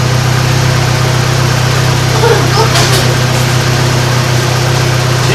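A 2006 Saturn Ion engine idles with a loud, steady, even hum and a constant low drone throughout.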